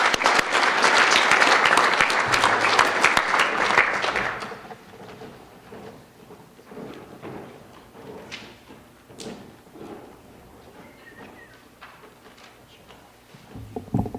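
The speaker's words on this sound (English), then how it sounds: "let's give them another round of applause" Audience applause at a high school FFA awards ceremony, a dense loud burst of clapping for about four seconds that cuts off to a quiet room with scattered taps and small thuds.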